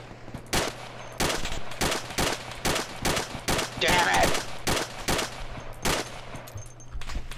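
Repeated heavy gunfire and blasts from artillery in the military game ARMA 2, sharp loud reports arriving in an irregular rhythm across the whole stretch, with a brief whistling streak midway.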